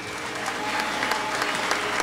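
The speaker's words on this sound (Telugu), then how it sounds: "వాళ్ళందరికీ కూడా మళ్ళీ ఒకసారి క్లాప్ యూర్ హ్యాండ్స్" An audience at a stage show claps steadily, a dense, sustained burst of many hands that stays even and full throughout.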